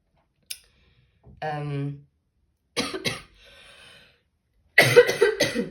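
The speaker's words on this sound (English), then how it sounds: "now that I start to cough" A few sharp coughs in separate bursts, with a brief spoken or hummed sound and quiet pauses between them, close to the microphone.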